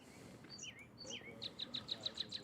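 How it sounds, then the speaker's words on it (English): Birds chirping outdoors, with short repeated tweets and a few swooping whistled calls at moderate distance, growing into a quick rhythmic series of bright chirps over faint background murmur. "I love the sound of the birds."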